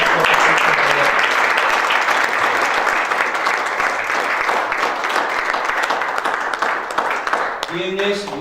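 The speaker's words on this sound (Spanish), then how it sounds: "Dale un aplauso fuerte." A church congregation applauds loudly, a dense sustained wash of clapping from many hands that fills the room and stays strong before tapering slightly, with a voice speaking over the end.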